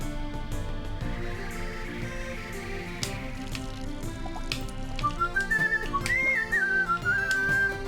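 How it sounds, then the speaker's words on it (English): A person whistles a cheerful Rune Factory game tune, the clear melodic whistle most prominent toward the end, over a soft background of other sound. "You love listening to the whistling."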